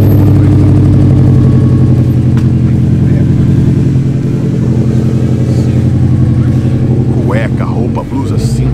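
A newly bought car's engine runs loud and close, a deep, steady throbbing drone with slight swells in revs, and a brief voice near the end.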